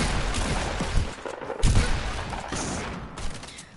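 Mortar fire in a video game: a dense, rolling barrage of blasts and booms, with heavier impacts around the middle, sustained and loud throughout.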